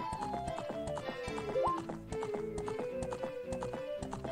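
A horse gallops in Zelda: Ocarina of Time, its steady game clip-clop hoofbeats repeating evenly over looping background music, with a brief whinny-like tone partway through.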